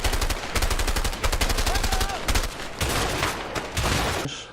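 Gunfire from the video game A Way Out: dense rapid bursts of automatic fire, loud and continuous with short pauses, punchy low thumps under crackling reports, with no speech.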